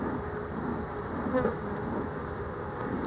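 Bees hum continuously at an opened hive during a frame inspection, a close, even drone with a brief rise midway and no talk.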